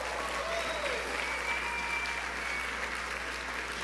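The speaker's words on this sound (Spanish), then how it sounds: "Un aplauso para la mujer." Church congregation applauding during a Women's Day sermon, steady even clapping across the whole stretch, moderately distant and unbroken.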